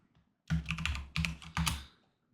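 Three quick, close bursts of keystrokes clatter on a computer keyboard, each a short flurry of clicks separated by brief pauses in an otherwise quiet room.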